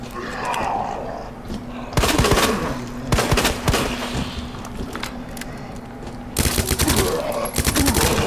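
Loud, dense gunfire from a weapon in Resident Evil 2 Remake, fought as Claire in the sewers, bursts out in several clustered volleys with brief pauses between them, over a constant low background drone.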